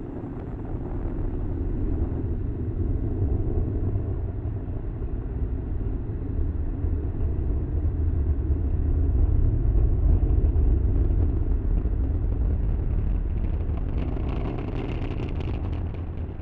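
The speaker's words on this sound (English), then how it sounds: "As you can see on your screen, Falcon 9 has successfully lifted off." A SpaceX Falcon 9 rocket lifting off from Florida on a Starlink launch, heard as a sustained, loud, deep roar and rumble that swells slightly midway and continues unbroken.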